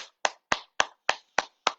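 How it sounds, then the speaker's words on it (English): Hands clap during a movement and breathing exercise, seven crisp, close claps in an even, quick rhythm with silence between them. "and then clapping the hands"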